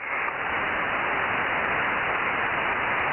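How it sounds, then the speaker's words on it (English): Steady, loud radio static hiss fills the whole stretch, a broadband white-noise wash from a 70cm amateur radio receiver on an open net with no voice over it. "At least one sitting in front of this equipment listening to white noise."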